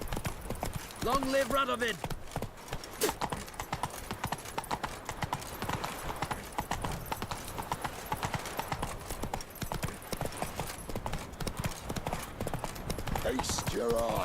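The horse Roach galloping in The Witcher 3, fast rhythmic hoofbeats pounding continuously and close, with voices shouting briefly at the start and end.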